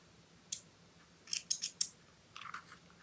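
Small thread snippers cutting close by, four or five crisp metallic snips at uneven intervals in a quiet room.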